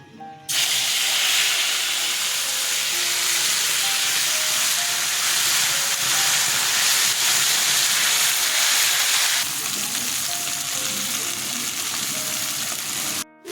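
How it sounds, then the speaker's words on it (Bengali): Onion paste sizzling steadily in hot oil in a home kitchen, a loud, continuous frying hiss that drops slightly partway through and then carries on. "আমি পেঁয়াজ বাটাটা ছেড়ে দিচ্ছি"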